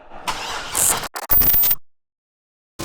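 A supercharged Corvette C6 Z06 V8 fires for the first time in a garage build, a short cranking burst catching into a loud rough rev that cuts off abruptly, followed by silence and then a second brief burst.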